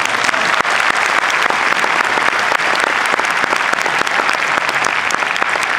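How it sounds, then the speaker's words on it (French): Sustained audience applause at a party congress assembly, dense and even clapping from a large crowd for the full stretch, loud and close with no pause. "je pense que nous pouvons applaudir"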